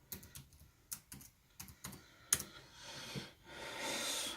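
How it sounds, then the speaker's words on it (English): A computer keyboard is typed on to enter a login password, a few spaced, fairly close keystrokes ending in a quick burst, then a soft sustained rustle. "and you're going to type in your password."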